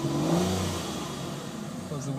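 Aston Martin DB9 Volante V12 engine, a 2005 convertible, rises in a smooth, rev-happy mid-pitched surge, then settles into a steady rumble. It is heard close and loud, with a voice talking over part of it.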